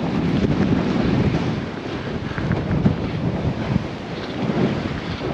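Strong wind roars and buffets the microphone continuously on a river delta, a loud, dense rushing that barely lets up for the whole stretch.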